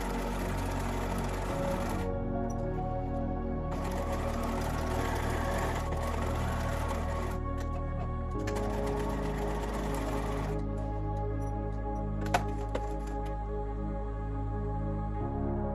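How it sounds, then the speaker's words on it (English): A sewing machine edge-stitches shorts in several long, steady runs of rapid needle chatter, pausing briefly between bursts, close and clear with no talking. "we can sew it from the wrong side using an edge stitch all the way around"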